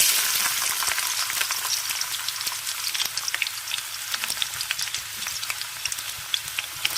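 Onion, ginger and garlic fry in sunflower oil, a close bright sizzle with crackling pops scattered throughout, no voices.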